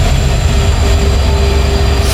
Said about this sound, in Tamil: ஸோ நம்ம ட்ரெயின் அந்த வந்துக்கிட்டு இருக்கு